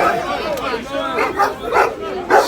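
Police dogs bark repeatedly near a crowd of football fans outside a stadium, sharp yelps cutting through crowd babble close by.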